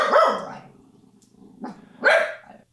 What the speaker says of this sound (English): And that's my dog, Maddie.